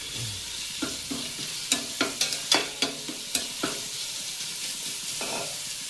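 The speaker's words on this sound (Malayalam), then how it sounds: "ആറ് ഉള്ളി ഇട്ടിട്ട് ഇത് നല്ലോണം വാട്ടിയെടുക്കണം" Six onions sautéing in a hot pan for biryani, with a steady sizzle under repeated clear scrapes and taps of a stirring spoon against the pan.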